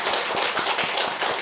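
A church congregation at a Sunday worship service claps for two students, a steady dense patter of many hands filling the room with rhythmic accents, loud and close, no voices over it.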